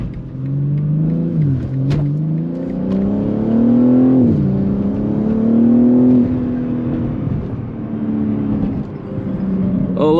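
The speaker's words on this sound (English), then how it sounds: "with both these mods combined, guys, this car sounds really good" A modified 500hp BMW G80 M3 engine with aftermarket exhaust revs up and down close by, its throaty exhaust note rising and falling in several swells before settling near idle.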